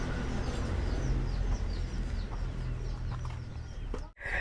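A chicken clucks in short, repeated calls over a steady low rumble of outdoor background noise, fairly faint and continuous throughout.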